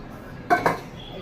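Two sharp metallic clinks close together as a spoon strikes the pot while Eid-special semai vermicelli is stirred and cooked. The clinks are close and fairly loud over a quiet kitchen background.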